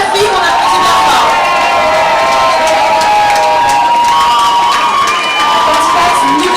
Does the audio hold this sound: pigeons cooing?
no